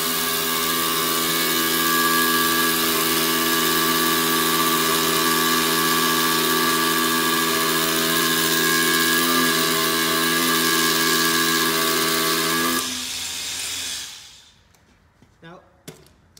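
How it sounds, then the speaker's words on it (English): A Hilti cordless hammer drill grinds loudly and steadily into concrete, boring a large-diameter hole for a long stretch, then winds down and stops, leaving faint scattered knocks. "we're just going to drill into this concrete"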